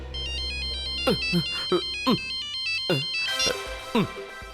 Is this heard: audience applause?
no